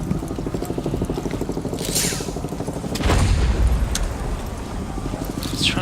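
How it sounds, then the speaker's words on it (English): A cluster charge detonating in Rainbow Six Siege, heard as a string of muffled booms with a heavier thump midway, amid rattling gunfire and scraping in a tense indoor firefight. "Detonate the cluster charge!"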